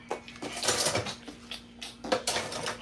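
Knife cutting through unsalted sweet cream butter, heard as quiet clattering taps and scrapes of the blade against a hard surface in two short bursts separated by a brief pause.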